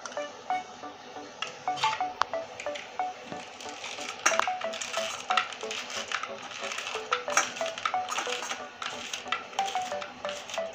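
Almonds and saffron are grated by hand in a kitchen while rice payesh is being made, giving repeated rhythmic scraping strokes with light metallic clinks, close and moderately loud.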